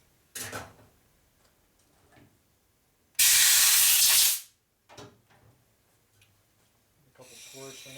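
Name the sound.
brake cleaner spray blowing off motorcycle transmission part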